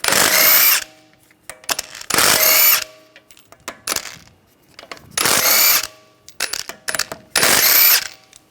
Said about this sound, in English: We're going to remove the wheel, use a 17mm socket, take the lug bolts out.